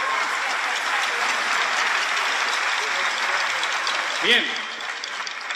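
An audience applauds an accordion player at a live drum-circle concert, a broad steady clapping wash, with a brief spoken word and some vocal sounds near the end.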